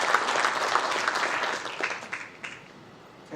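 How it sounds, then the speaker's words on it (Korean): Applause from the audience at a policy conference on a national Fourth Industrial Revolution master plan, starting full and lively, then thinning and fading to a few scattered claps before a brief swell at the end. "큰 박수 부탁드립니다"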